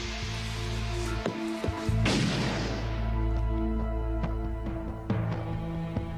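A single sharp gunshot rings out from a library inside a house, a sudden loud crack with a short decaying tail over a steady tense musical drone.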